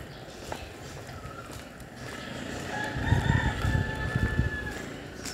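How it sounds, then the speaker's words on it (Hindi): A rooster crows at a distance, a long drawn-out call rising over a low outdoor rumble with scattered thumps and background noise, no voices. "देखिए मुर्गा बांग देते हुए"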